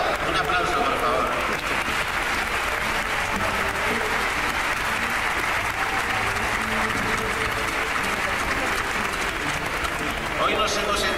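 Sustained applause from a crowd, a dense steady wash of clapping that continues at even loudness throughout.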